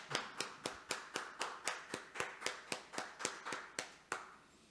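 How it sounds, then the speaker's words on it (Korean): Rhythmic clapping in a church congregation, around sixteen evenly spaced sharp claps in unison at a quick steady beat, moderately quiet and with no voices over it. "우리 하나님께 영광의 박수를 드리겠습니다."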